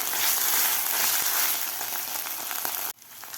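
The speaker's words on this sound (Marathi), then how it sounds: "हिरवी मिरची आला आणि कांदा आपल्याला व्यवस्थित परतून घ्यायचा" Onion, green chilli and ginger sauté in a hot pan with a dense, steady sizzle that holds loud and close for about three seconds, then cuts off abruptly.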